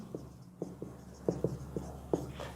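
Chalk or marker strokes on a classroom board, a scattered series of short scratchy taps and squeaks, close and fairly quiet over a low steady hum.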